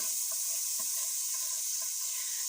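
Green chilies fry in a pan with a soft, steady hiss, broken by faint scraping and stirring taps that come at an irregular pace.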